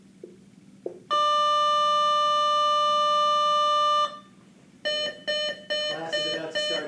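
A school bell signals the start of class, sounding as a loud electronic tone held for about three seconds, then returning in several shorter bursts amid faint background noise, without speech.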